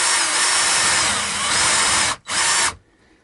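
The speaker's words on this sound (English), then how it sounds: "I may need a bigger drill bit. So let's try this with a little piece of scrap wood first." A power drill whines loudly up close as it bores into a piece of scrap wood, stops briefly, spins up again, then cuts off to quiet.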